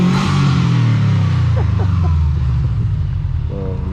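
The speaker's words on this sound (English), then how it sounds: "And here's our delivery vehicle." A delivery vehicle drives up close by, a loud steady low engine drone that rumbles and shifts slightly in pitch as it approaches, with brief faint voice fragments.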